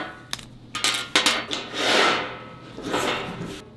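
Ball bearings are popped out of old fidget spinners: a few sharp small clicks and knocks followed by scraping, rubbing handling noises, close and fairly quiet.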